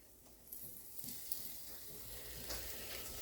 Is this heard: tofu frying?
yes